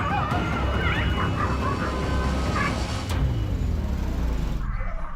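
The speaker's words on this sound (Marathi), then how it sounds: "सांगलीच्या माळी गल्लीत कुत्र्यांना पकडण्यासाठी सुरू असलेली पालिकेची पळापळ" Stray dogs on a street in Sangli yelp, whimper and bark in short excited bursts during a municipal dog-catching drive, heard over constant outdoor street noise with a passing car.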